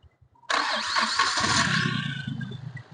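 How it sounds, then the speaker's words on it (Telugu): A used Hyundai Grand i10 Sports with 76,000 km cranks briefly and fires on a single start, then settles into a steady, close idle. "సింగిల్ సెల్ఫ్ అయితే స్టార్ట్ అవుతుంది బండి"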